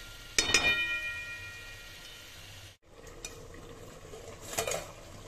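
Chicken fries in an uncovered pan with a soft, continuous sizzle, punctuated by a couple of sharp utensil clinks and scrapes against the pan.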